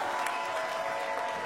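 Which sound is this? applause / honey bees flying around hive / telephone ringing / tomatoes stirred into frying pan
applause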